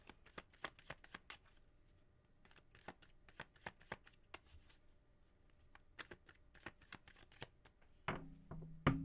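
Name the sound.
shuffling tarot cards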